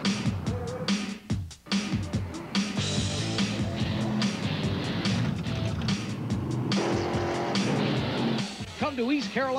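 Legends race cars at East Carolina Motor Speedway, engines roaring and whining past in a busy mix under an announcer's voice, with a brief dip before the noise resumes.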